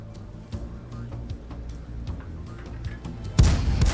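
A self-propelled artillery gun fires in World of Tanks: a low engine hum with scattered faint clicks, then one loud, heavy boom near the end that rings on.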